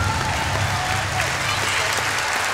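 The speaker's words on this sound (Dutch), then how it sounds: "Applaus!" A studio audience at a 2002 televised Sinterklaas celebration breaks into sustained, dense applause that is loud and continuous throughout.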